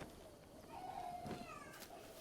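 A cat lets out a short, faint meow, then a brief second call, over steady low background noise.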